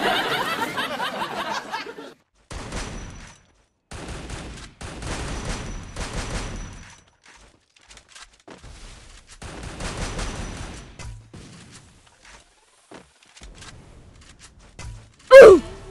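Bursts of gunfire from the Free Fire battle-royale game come in short separated volleys amid quiet gaps, ending in one sharp loud shot, with a faint voice near the start.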